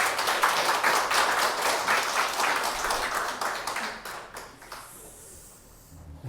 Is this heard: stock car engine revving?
no